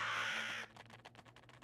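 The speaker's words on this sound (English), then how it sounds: "Is that a good sound that the birds got mad" Cartoonish angry bird caws in a video game, a burst of harsh squawking noise that cuts off abruptly, followed by quieter rhythmic chattering cries, fairly faint overall.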